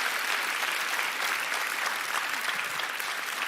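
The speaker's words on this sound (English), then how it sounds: "Guys, can you keep that round of applause going?" An audience keeping up a steady round of applause at a livestreamed event, a dense, even roar of many clapping hands sustained at constant loudness throughout, with no talk over it.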